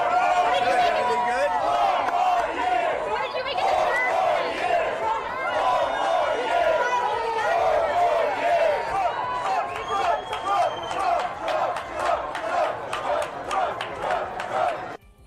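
Crowd gathered at a Harlem bodega chanting and cheering for Trump, rhythmic massed voices with shouting and chatter, loud and close, swelling and pulsing over the whole stretch.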